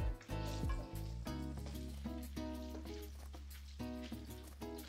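Pork hock with ground black pepper stirred in a hot pan, a soft steady sizzle under scraping and clinking of the utensil, with a low hum beneath.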